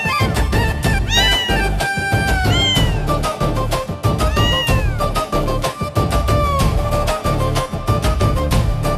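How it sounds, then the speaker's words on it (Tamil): Kitten meows in a Tamil children's rhyme, repeated high, bending cries in quick succession over a busy musical backing, loud and continuous throughout. "மியாவ் மியாவ் குட்டி பூனைங்க"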